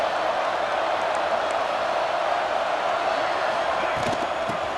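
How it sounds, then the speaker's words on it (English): A fired-up football stadium crowd at a Buffalo vs ECU game, a steady wall of roaring noise that holds evenly throughout, with a couple of faint thumps near the end. "this crowd is fired up. Listen to this noise here."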